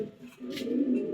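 Pigeon cooing, a short low throaty coo heard close and fairly loud, with no talking.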